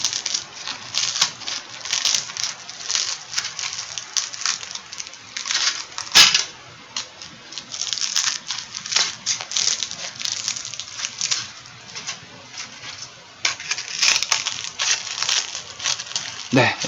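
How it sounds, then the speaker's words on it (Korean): Scissors crunch repeatedly through crispy grilled dried pollack, a close run of crackly snips and clicks, with a voice talking at times. "약간 좀 바삭하게 구웠기 때문에 가위 들어가는 소리부터가 다르군요"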